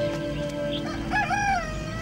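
A rooster crows once, a clear drawn-out cock-a-doodle-doo over a steady background hum, with no talking.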